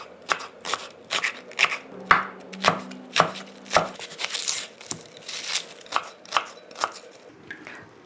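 A knife chops vegetables for shrimp egg foo young on a cutting board, a quick irregular run of crisp close taps and thuds with brief pauses between bursts, no voices.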